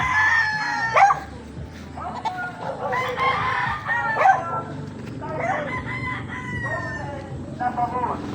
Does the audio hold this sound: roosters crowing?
yes